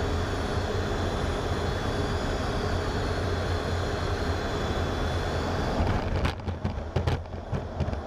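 Propeller aircraft engine in a Flight Simulator game, a steady loud drone throughout with throttle being pushed up and pulled back near the end, bringing a few sharp surges and dips.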